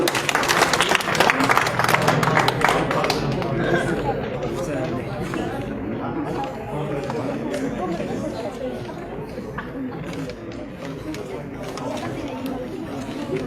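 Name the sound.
audience applause welcoming a guest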